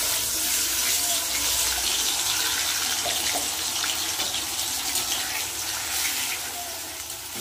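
Ground tomato, onion, chilli, garlic and ginger masala fries in hot oil with bay leaf and dried red chilli, giving a loud, steady, dense sizzle that holds throughout and eases slightly at the end.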